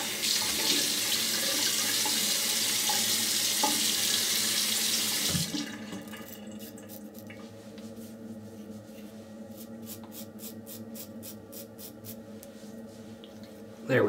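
Water from a tap runs steadily into a sink to rinse off after a shave, then stops, leaving faint scraping and handling noises.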